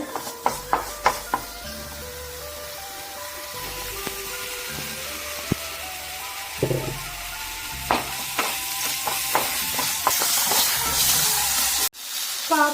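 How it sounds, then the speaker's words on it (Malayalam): Spice powders roast in hot oil in a pan, a steady close sizzle and hiss punctuated by sharp scraping taps of a spoon stirring against the pan. "നന്നായിട്ട് തന്നെ മുപ്പിച്ചെടുക്കട്ടെ പൊടികൾ"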